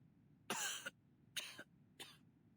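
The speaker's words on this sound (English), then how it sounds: "now I cough and splutter just like it does" Three harsh coughs with a spluttering edge, fairly close and alone against a quiet background, each burst short and separated by brief pauses.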